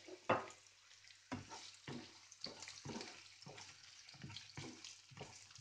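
Garlic and grated carrot being stirred in a frying pan, with a steady sizzle under repeated scraping strokes of a spoon against the pan, close and fairly loud, no talking.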